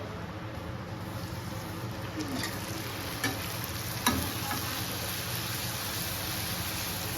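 Food sizzles in hot oil in a home kitchen, a quiet, steady crackling hiss with a couple of brief clinks of a utensil partway through.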